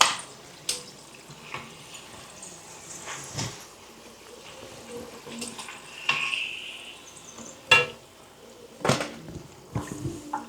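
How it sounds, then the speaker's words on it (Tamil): Puri dough frying in hot oil, a soft steady sizzle with occasional louder spatters and clinks of a utensil against the pan, close and without talk. "பார்த்தீங்களா அவ்வளோ முட்டையாக பொரியுது"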